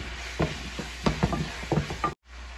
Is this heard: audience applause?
no